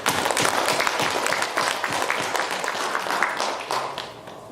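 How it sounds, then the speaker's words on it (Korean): A church congregation applauds its choir after a Sunday service hymn, with loud, close clapping that is sharp and full at first and then thins slightly toward the end. "오늘 찬양하신 우리 찬양대 영광의 박수."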